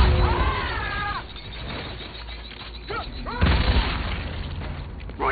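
Explosions and gunfire in Call of Duty Infinite Warfare, booming blasts and rapid shots over a rumbling battle din, a stronger burst midway, with voices talking over it.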